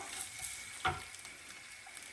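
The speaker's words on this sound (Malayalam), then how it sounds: "എണ്ണ ചൂടായി കഴിയുമ്പം പട്ട ഗ്രാമ്പു ഏലക്ക ഇതിട്ട് കൊടുക്കാം" Cinnamon, cloves, cardamom and ginger fry in hot oil for a beef stew, a soft steady sizzling hiss with one brief louder crackle, faint and close.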